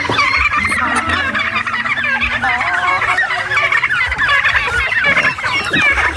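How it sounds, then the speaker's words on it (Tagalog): A dense flock of chickens just released from a cage clucks and chirps nonstop at close range, loud and busy throughout with no voices. "Ito yung mga manok na galing sa loob ng kulungan."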